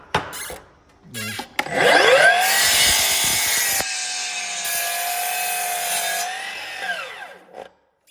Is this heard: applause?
no